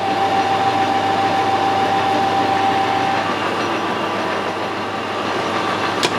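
A metal lathe turns a shaft supported by a travelling steady, giving a steady, loud, even machining drone with a faint whine, close by and without talk.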